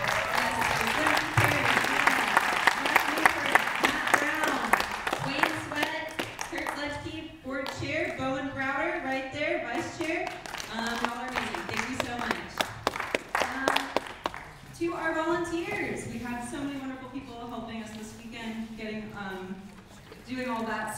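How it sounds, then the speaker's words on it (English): Applause from an awards ceremony audience for film board members standing in the hall, clapping strongest at first and then thinning under a presenter who keeps talking over it. "please stand so that we can give you all a big round of applause"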